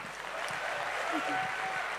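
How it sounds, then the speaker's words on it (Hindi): Audience applause at a talk, a short stretch of steady clapping from the crowd, fairly faint and distant throughout. "जोरदार तालियां"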